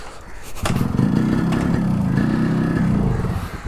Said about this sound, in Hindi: ओहो, सेकंड किक में चालू हो गया।